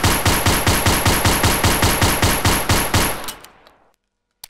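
An FM57 pistol chambered in 5.7x28 fires in Gun Club VR: a rapid, evenly spaced string of about fourteen loud, punchy shots, then a short fading echo into silence.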